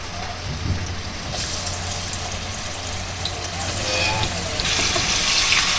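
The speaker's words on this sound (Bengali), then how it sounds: "সেই জন্য একটু ভেজে নিতেছি, হালকা করে ভেজে নেই" Fish fries lightly in oil in a pan in a simple village kitchen, a steady, soft sizzle and crackle that grows slightly louder toward the end, with a voice talking over it.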